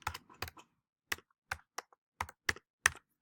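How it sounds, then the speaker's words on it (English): Computer keys are pressed in short, separate bursts, about eight quick clusters of clicks spaced irregularly over a few seconds. The typing is close and quiet against a silent background. "I click in here and I can type text"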